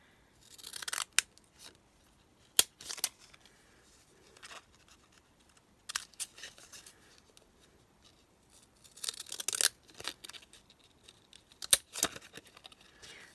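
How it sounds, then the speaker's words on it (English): Zigzag-edged craft scissors snipping through paper in irregular bursts of crisp cutting and rustling, close and fairly quiet with pauses between cuts. "I'm going to use my zigzags and cut it off at a zigzag"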